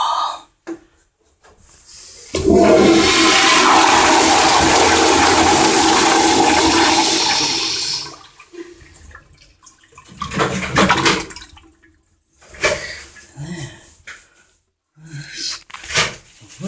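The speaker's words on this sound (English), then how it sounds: "Worst flush ever." A toilet in a medical school bathroom flushes with a loud, steady rushing roar for about six seconds, then trails off into thinner refill water sounds and brief knocks.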